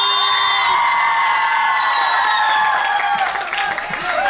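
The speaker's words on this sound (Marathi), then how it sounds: "टाळ्या वाजवा" A crowd at a youth fest talent contest cheers and whoops loudly, with clapping mixed into the noisy, sustained roar of many voices.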